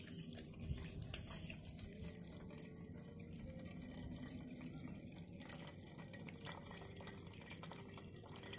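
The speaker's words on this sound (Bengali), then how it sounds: "এখন আমি তরমুজের জুসটা যে বানিয়ে রেখেছিলাম এটা ছেঁকে নিচ্ছি।" Homemade watermelon juice trickles through a strainer with a faint, continuous dribbling and dripping of liquid, close by and quiet.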